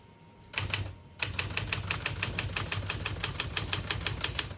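Rapid, steady keystrokes on a 1971 Smith-Corona Super-Sterling portable manual typewriter set to single spacing, a short burst then a brief pause before a continuous run of crisp, evenly paced clacks, close and clear with no talking.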